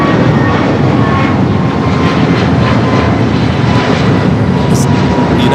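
A large fixed-wing airliner roars steadily on takeoff at Los Angeles International Airport, a loud continuous engine rumble filling the scene with no pauses, a faint voice barely present beneath it.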